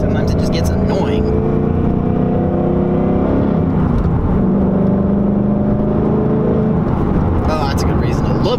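A Ford Mustang engine revs with a rough, rising and falling drone that runs steadily under a person talking.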